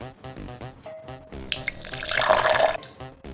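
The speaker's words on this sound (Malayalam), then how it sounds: "ഇനി ഇതിലേക്ക് നമ്മൾ വെള്ളം ഒഴിക്കാൻ പോവാണ്." Water pours from a tap into a glass, a bright splashing rush that swells for over a second before cutting off, preceded by a brief tone and faint background sounds.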